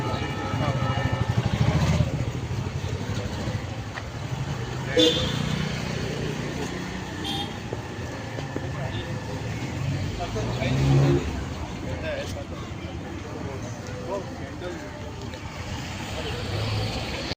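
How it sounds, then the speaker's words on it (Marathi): Vehicle engines drone and pass along a busy street during a peaceful protest in Mapusa, Goa, a steady traffic rumble under continuous crowd chatter and voices. "गाडीचा आवाज घ्यात बघता गाडीचा आवाज घ्या"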